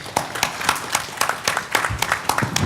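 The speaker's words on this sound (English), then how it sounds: "Let's give a warm round of applause to my panelists" At the close of a South Asia economics panel session, a conference audience gives the panelists a round of applause, a brief, moderately loud patter of many overlapping hand claps.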